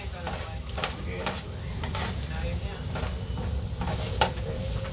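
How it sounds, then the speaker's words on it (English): Seafood and vegetables being stirred in a hot pan, with a constant sizzling, frying hiss and repeated scraping strokes from the stirring utensil close up. "I'm going to stir this."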